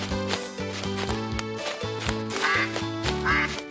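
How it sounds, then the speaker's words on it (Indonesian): Repeated quacks from a duck, a pet rescued from a roadside ditch, ring out over steady background music with a strong rhythmic beat, sounding close and fairly loud. "Itu seperti suara bebekku."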